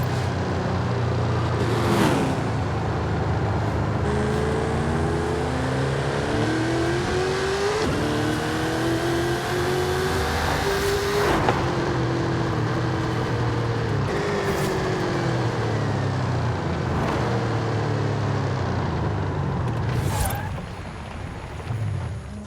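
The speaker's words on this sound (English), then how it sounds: "So much traffic." Steady car traffic in Forza Horizon 5, engines droning and swelling as vehicles pass close by one after another, with occasional revving surges, loud and continuous throughout.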